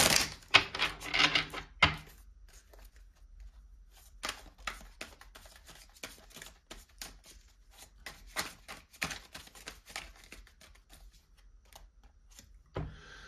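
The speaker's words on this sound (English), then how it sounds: "So let's get some Divine Love Oracle cards for my twins out there." Divine Love Oracle cards shuffled by hand in a quiet indoor setting, with a dense burst of riffling at the start, then scattered soft flicks and taps of cards that fade to quiet and return with a short final flurry.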